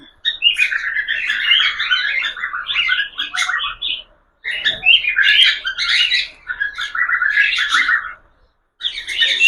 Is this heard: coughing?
no